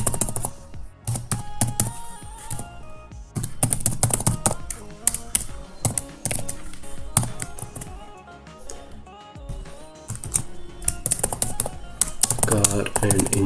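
Java code being typed on a computer keyboard: steady, close clicking keystrokes with irregular pauses, running under a man explaining in Hindi.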